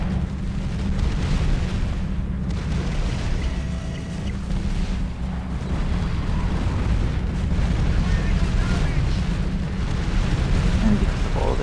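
Explosions from bases being destroyed in a strategy video game, a loud, continuous rumbling barrage of deep blasts that runs without pause, with a voice faintly present underneath.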